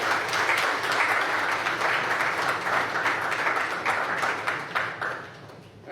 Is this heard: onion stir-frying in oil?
no